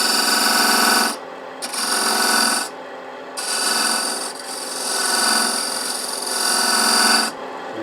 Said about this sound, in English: I want to go ahead and put a little bit of a chamfer on the inside